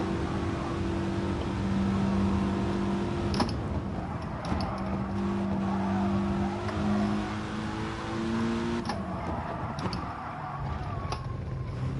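Racing car engines in the Gran Turismo video game drone and whine, with sustained tonal engine pitches that rise and shift as gears change, and sharp clicks and ticks here and there, no talk.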